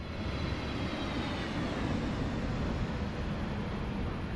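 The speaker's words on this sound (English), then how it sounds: "there's a huge airplane just flying overhead of your house" An Airbus A320neo jetliner in a flight simulator game passes low overhead, producing a loud, steady, broadband engine roar that stays constant throughout with no talking.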